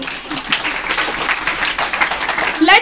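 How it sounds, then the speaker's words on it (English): A school audience claps for student performers at a student-led conference, a brisk burst of applause mixed with voices, ending in a louder flurry near the close. "Have a big hand of applause one more time for them"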